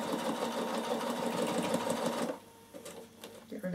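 A Bernina sewing machine stitches up the side of fabric, its rapid close whirring rattle running steadily before cutting off abruptly, followed by quieter handling noises.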